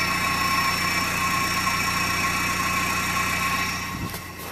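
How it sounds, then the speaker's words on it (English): A new car's engine idles through a quiet stock exhaust, a steady low hum with a faint whine that holds evenly, then a brief clunk and slight drop near the end. "Quiet stock exhaust."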